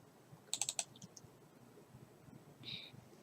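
A computer mouse clicked while opening a spreadsheet file, giving a quick cluster of sharp, close clicks followed by a couple of faint ticks in a quiet room.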